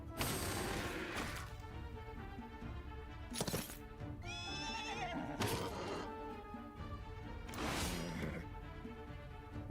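A horse neighs in a Heroes of Might and Magic demo amid busy game sounds and music, with thuds and whooshes around it; the whinny rises briefly near the middle.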